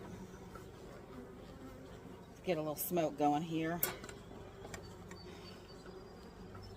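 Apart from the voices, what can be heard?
honey bees buzzing at opened hive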